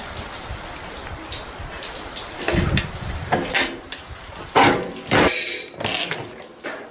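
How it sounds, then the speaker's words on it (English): Hand shears cut the sheet-metal outer wall of a homemade jet engine's burn chamber, giving irregular sharp crunching snips that start after a quiet stretch and grow louder and denser toward the end, with no talking. "I just got done showing you shearing out the outer wall of the burn chamber"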